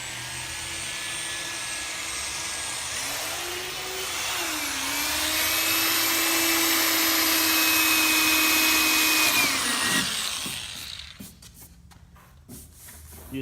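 A power drill whines at a high pitch while drilling into the body of a 1976 Corvette, rising and holding steady for several seconds before winding down into scraping and clatter.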